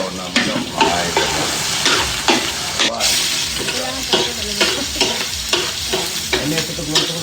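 Chopped onion and garlic sautéing in a pan as the base for Filipino arroz caldo rice porridge: loud, close sizzling and frying with repeated scraping stirs at an irregular rhythm, no talk.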